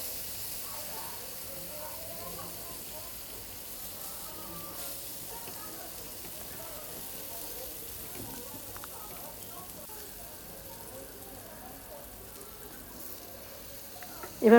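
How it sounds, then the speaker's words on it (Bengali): Tilapia pieces frying with spices in hot oil in a pan, a steady soft sizzle and hiss running throughout at low level, with a brief louder knock at the end. "মশলাগুলো তেলের মধ্যে 10 মিনিটের মতো ভেজে নিতে হবে এবং সাথে মাছও দিয়ে দিতে হবে।"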